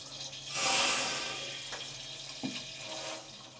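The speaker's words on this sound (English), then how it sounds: "could you go turn on the water and then I'll let this fill up" Water runs in to fill an aluminum boat's water system, a soft, fairly quiet rushing flow that swells early and then settles, with a couple of faint knocks.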